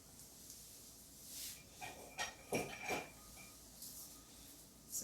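A metal spoon is picked up from among kitchen utensils, with a few light clinks and soft clatters close by in a quiet room.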